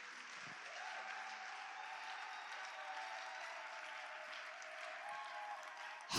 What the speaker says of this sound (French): Est-ce qu'on peut acclamer et puis on se met?